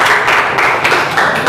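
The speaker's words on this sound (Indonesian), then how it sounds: "tepuk tangan dong untuk kalian semua" Students in a classroom clap together in a brief, steady burst of applause, close and fairly loud, with no talking over it.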